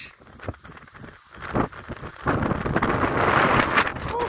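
Strong wind roars across a coastal lookout near a bridge to the island of Pag, Croatia, buffeting the microphone in steady, rising gusts with no speech.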